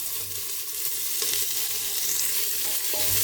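Sliced big onions and green chilies sizzle steadily in a pan for paneer pulao, a continuous close frying hiss broken by a few scraping stirs.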